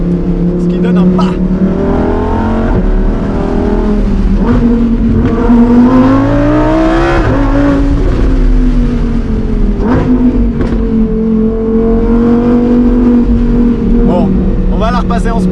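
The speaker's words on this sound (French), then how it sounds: "autour de 4000 tours, le son est tellement impressionnant" A Lamborghini Huracán Performante engine roars loudly from inside the car, revving up and down through gear changes in rising and falling sweeps, with brief ignition-cut pops between shifts.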